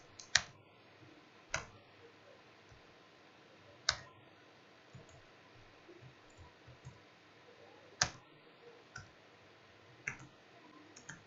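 Sparse computer keyboard typing while text is entered in a word processor, with a handful of sharp isolated key clicks spaced a second or more apart, each separated from the next by quiet room tone.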